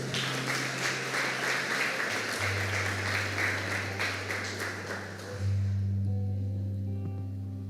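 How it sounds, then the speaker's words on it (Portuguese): A church congregation claps together in a round of applause for Jesus, moderate and even, fading out near the end as a low sustained organ or keyboard tone takes over. "Vamos dar uma salva de palmas a Jesus."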